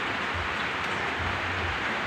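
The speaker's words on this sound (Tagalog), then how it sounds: "Napakalakas ng ulan." Heavy rain pours down in the Philippines, a dense, steady hiss of close downpour with no break.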